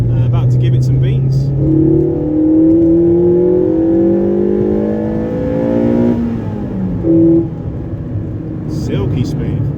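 A remapped Ford Fiesta ST150 Mk6 accelerates hard, its engine note climbing through the revs in long rising sweeps, easing off and briefly rising again, loud and close.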